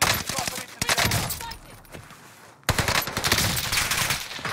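A BREN light machine gun in the shooter game Warzone fires loud, rapid automatic bursts, close and punchy, with one short pause midway, while players talk over the shooting.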